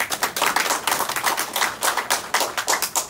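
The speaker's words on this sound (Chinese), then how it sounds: "掌声欢迎张局长" A crowd claps at the opening and plaque-unveiling ceremony of the Taiwan Railway ancillary business operations center, welcoming the director with steady, fairly loud indoor applause of many hands throughout.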